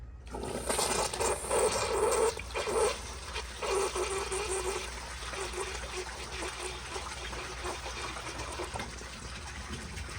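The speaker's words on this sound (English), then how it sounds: "But here is another flush." An American Standard Baby Devoro toilet flushing from 2010 with a rag in the bowl: a loud, close gush of rushing water that eases into a steady softer wash and trickle as it refills.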